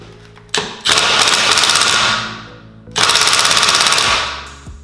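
A Milwaukee 1/2 inch impact wrench on its lowest setting hammers at nuts in two long, rapid rattling bursts, each starting loud and close and then tapering off.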